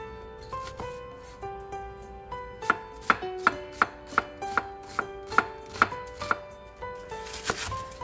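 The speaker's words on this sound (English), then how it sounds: "Chop 1 organic onion." A knife chops an organic onion on a cutting board, a run of about a dozen crisp, evenly spaced strikes that speed up midway, over soft background music.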